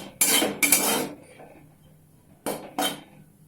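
Gram flour and milk roasting in a pan for a besan sweet, with a spoon stirring and scraping: two close clattering bursts, a quieter stretch, then two more metallic scrapes against the pan.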